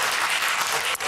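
Audience applause after a man declares himself an atheist during a talk-show interview, a dense, steady wash of clapping filling the whole moment with a brief dip near the end.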